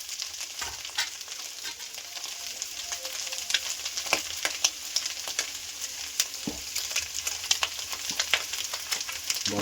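Basmati rice frying in a pan for fried rice, a dense continuous sizzle with occasional stirring scrapes and clinks, close and steady.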